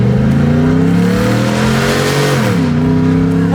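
An old, slow three-speed truck engine revs loudly and steadily throughout, its low rumbling tone dipping and then climbing again partway through, with no talking.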